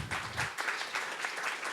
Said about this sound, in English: Let's give a clap for Thomas.